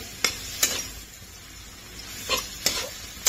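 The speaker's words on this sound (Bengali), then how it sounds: "গ্যাসের ফ্লেম একদম কম করে এবার মিক্স করবো চালটাকে" Cooked rice stirred in a pan over a low gas flame, a few soft scraping strokes spaced out, quiet and close with no talk.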